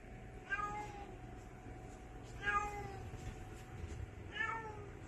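Three separate cat meows, evenly spaced about two seconds apart, fairly close and clear over a quiet background hum.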